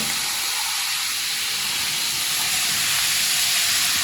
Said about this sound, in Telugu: ఆయిల్ హీట్ అయిపోయిన తర్వాత ఇందులో వేసుకోండి ఆనియన్ ఈ విధంగా ఫ్రై చేసుకోవాలి